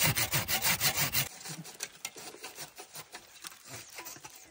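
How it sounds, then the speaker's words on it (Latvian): Hand saw cutting through an apple tree branch outdoors, a fast rhythmic rasping of back-and-forth strokes, loud at first then continuing as lighter, quicker strokes close by. "Bišku piezāģēja ābelīti, lai var iebraukt ar Volviķi."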